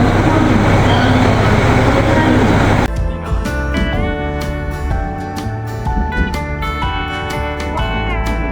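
A loud, steady rush and rumble of a passing train in Otaru, Japan, during a blizzard, fills the first few seconds, then cuts off abruptly as music takes over.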